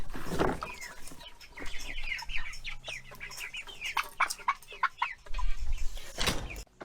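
Many Ranger chickens cluck and chatter close by on a farm, a busy irregular stream of short calls with some louder bursts and rustling movement.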